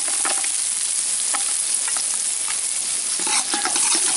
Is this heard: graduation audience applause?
no